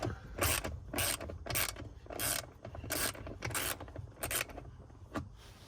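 A 10 mm socket on a ratchet wrench loosens nuts beneath the screen of a Tesla Model 3, giving a run of close, rhythmic ratcheting clicks in quick bursts with no talking.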